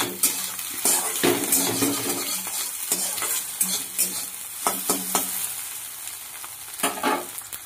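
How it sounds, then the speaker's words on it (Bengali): Eggs fry in hot oil in a pan, giving a loud, steady crackling sizzle close up, broken by spatula scrapes and bursts of spattering. "ডিমগুলো ভেজে নিচ্ছি।"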